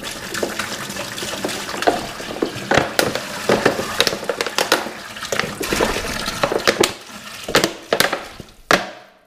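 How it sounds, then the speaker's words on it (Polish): Water is poured into a beer fermenter while brewing from a kit, giving a continuous splashing gush. It is broken by irregular knocks and sloshes and stops abruptly near the end. "Wlewamy sobie wodę."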